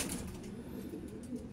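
A racing pigeon coos softly, low rounded warbles repeating steadily over a quiet background, with no talking.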